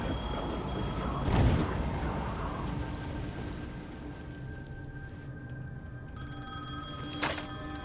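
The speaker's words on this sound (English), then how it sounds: "The phone was ringing again." A telephone rings in Alan Wake 2, a bright bell tone swelling early and returning briefly near the end over a dark, rumbling ambient backdrop, with no voices.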